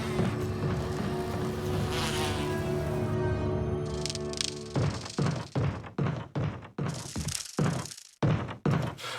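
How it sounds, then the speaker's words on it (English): Swarm of bees in a hallway in the video game Resident Evil Remastered, a close, steady droning buzz that breaks off into a run of sharp, irregular thuds and cracks. "you'll trigger some bees, and the bees will stay in that hallway with you"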